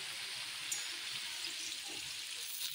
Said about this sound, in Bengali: এখন নাড়া দিই।